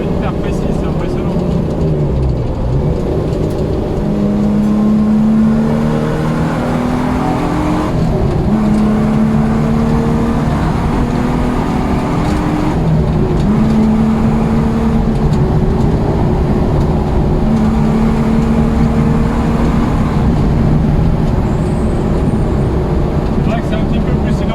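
A Ford Sierra XR4i V6 rally car is driven hard, its loud engine droning from inside the cabin with rising and falling revs through gear changes, as occupants talk over the noise.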